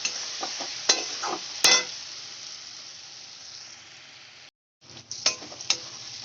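Spice paste of ginger and garlic with salt frying in a pan, a steady sizzle broken by scraping stir strokes and a sharp utensil clink, briefly dropping out before the sizzling and stirring resume.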